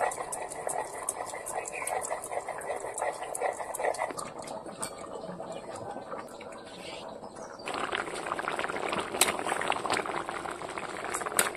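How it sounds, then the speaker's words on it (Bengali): Elephant foot yam curry bubbling steadily in a pot, a continuous close simmer with a brighter, busier boil in the last few seconds and faint background sounds. "ওলের তরকারিটা ফুটতে ফুটতে আমি এদিকে জিরে বেটে নেব।"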